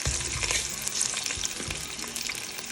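Beef soup with ginger and boiled meat is stirred in a pot, giving a busy sizzling hiss with scraping and sloshing bursts of stirring, close and fairly loud, with no talking.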